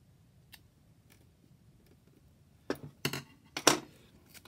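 Scissors snip through adhesive tape used to cover a cassette erase head, a few sharp close cuts near the end after faint ticks, with no talking.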